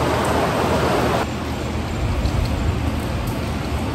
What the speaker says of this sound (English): you just know it's raining on all those alligators and all those crocodiles